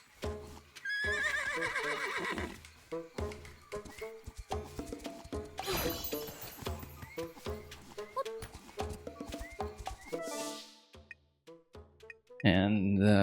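A horse in the video game Zelda: Echoes of Wisdom whinnies amid clip-clopping hooves and game music, with loud bursts and quieter gaps over about thirteen seconds.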